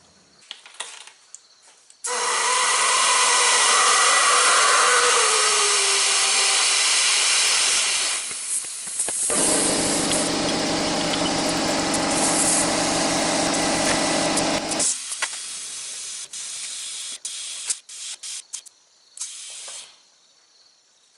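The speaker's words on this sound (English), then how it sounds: "We'll have to get that tucked back in before we start inflating it." Compressed air hisses loudly and steadily into a patched skid steer tire tube, a long close rush that shifts in tone partway, then short bursts as it tapers off.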